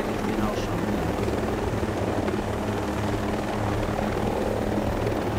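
A helicopter in the video game Ghost Recon Breakpoint, a loud continuous rotor thrum and engine drone holding steady throughout, with people talking over it.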